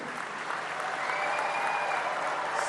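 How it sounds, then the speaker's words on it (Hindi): Sustained applause from a large audience at an auto show in Indore, a steady dense wash of clapping that holds at an even level throughout. "इंदौर की तालियों में दम है।"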